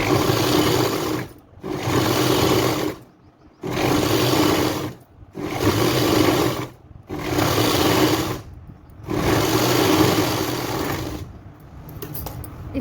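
A sewing machine stitches a petticoat belt in five long, steady runs of loud whirring, each separated by brief pauses, with no talking.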